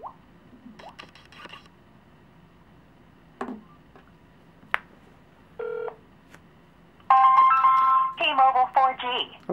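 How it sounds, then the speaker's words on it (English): Samsung Galaxy smartphone on T-Mobile 4G dialing a call: a few faint keypad taps and clicks, then a loud run of steady dialing tones and ringback beeps that grow louder toward the end, with no talking over them. "let me try to make phone call"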